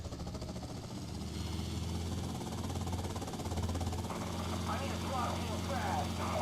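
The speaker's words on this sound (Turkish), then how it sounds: "Adamlar o kadar zengin ki helikopter getiriyor yeniden." A helicopter arrives in the video game GTA Vice City, giving a steady, loud rotor and engine drone that runs through the whole stretch while a voice talks over it near the end.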